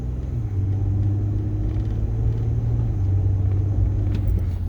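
A 2009–2014 Ford F-150 pickup truck holds a steady low engine and road rumble at moderate speed from inside the cab. The drone dips slightly as the truck brakes moderately, and there is no talk.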